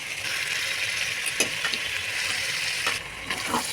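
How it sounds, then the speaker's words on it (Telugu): Soaked soya chunks (meal maker) go into a hot frying pan for veg pulao and are stirred. Steady sizzling runs throughout, with scattered scrapes and clinks of the spoon against the pan. "ఇప్పుడు నీళ్ళలో మిల్ మేకర్ పెట్టుకున్నాం కదా ఇవి కూడా మొత్తం వేసేసుకోండి"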